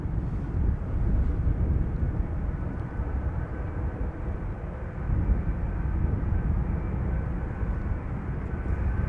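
A KLM Boeing 777-200ER, about 20 years old, arriving at Amsterdam Schiphol after a long-haul flight from Bangalore, gives a steady broad engine roar that holds loud and even throughout, with no talk.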